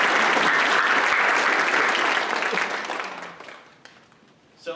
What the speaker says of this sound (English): How about one more round of applause for the band?